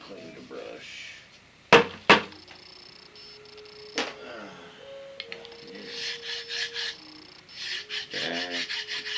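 Rasp filing on a soapstone carving, with a few sharp knocks near the start and then repeated rough scraping strokes, close and moderately loud. Faint music and possible voices run underneath.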